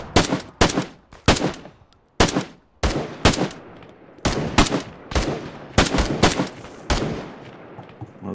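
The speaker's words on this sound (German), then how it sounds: "Ich schieße auf mich ein." Rapid bursts of gunfire from an Arma 3 military firefight, loud and close, firing in repeated short volleys and single cracks across the whole stretch with no talking.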